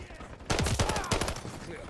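Automatic weapon fire rattles in Call of Duty: Modern Warfare III: sharp, rapid bursts of shots that start abruptly and repeat in quick succession, loud and close.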